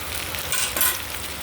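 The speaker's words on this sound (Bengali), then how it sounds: "দেখো বেগুনগুলো বেশ সুন্দর করে ভাজা হবে।" Eggplant slices frying in hot oil give a steady, close sizzle that swells briefly midway, with no talking.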